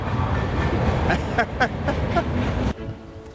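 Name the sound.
freight train passing in the background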